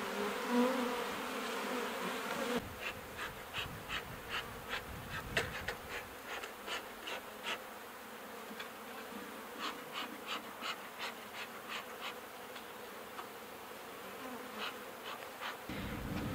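Honey bees buzz around a hive, a close, continuous insect drone with individual bees zipping by in repeated brief passes over a quieter background.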